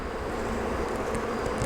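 Honey bees buzzing at an open hive during a honey harvest, a steady, dense drone that sounds close and fairly quiet, with no voices over it.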